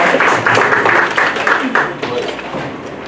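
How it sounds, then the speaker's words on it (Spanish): Audience at a court lecture event in Callao gives a strong round of applause, broad crackling clapping that fills the room loudly and then begins to thin out toward the end. "Lo despedimos con un fuerte aplauso"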